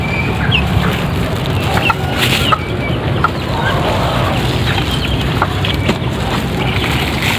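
Native chickens cluck and murmur steadily throughout a farm egg collection, a busy flock close by with no clear talk.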